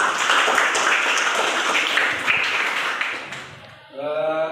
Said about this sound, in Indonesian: Tepuk tangan, guys.